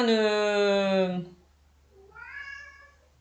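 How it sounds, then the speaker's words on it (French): A cat meows loudly and close by, a long drawn-out cry followed after a short pause by a second, softer meow. "ça c'est mon chat, je ne sais pas si vous l'entendez."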